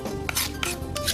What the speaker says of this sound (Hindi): लहसुन के बारीक चॉप कर लीजिएगा।